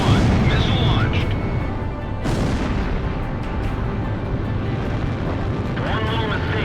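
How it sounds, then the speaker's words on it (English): A missile launches during an aerial battle in Ace Combat Zero: The Belkan War, a sudden loud whooshing burst rising out of a steady roar of jet engines and combat noise, with radio voices talking throughout. "Gom 1, missile launched."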